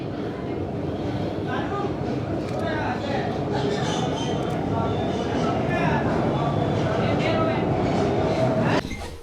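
A train runs through the tunnels of the Khewra salt mine, a steady rumbling rattle with clattering wheels and faint squeals, close and continuous until it cuts off abruptly near the end. Voices murmur faintly underneath.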